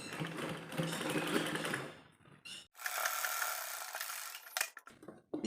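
A sewing machine runs in steady mechanical bursts while stitching a baby dress, with a whirring run, a brief pause, then another run ending in a few clattering stops.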